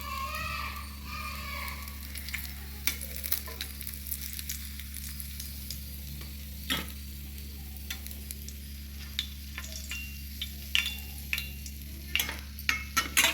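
Fish frying in oil in a pan, a constant crackling sizzle with sharp pops and spits scattered throughout, joined by a steady low hum in the background.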